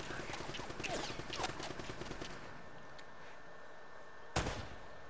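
Rapid bursts of gunfire in the action game Uncharted, a dense rattle of shots for a couple of seconds that thins out, then a single sharp loud shot near the end.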